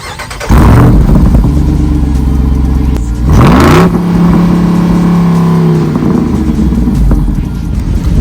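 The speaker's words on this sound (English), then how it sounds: "So don't think I forgot about the 470 horsepower monster in the hood." The 470-horsepower engine of a 2023 20th Anniversary Jeep Wrangler Rubicon 392 fires up and revs, a loud, deep rumbling burble that swells into a sharp climbing roar and then settles back to a steady idle.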